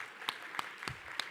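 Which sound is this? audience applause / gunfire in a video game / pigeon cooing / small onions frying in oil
audience applause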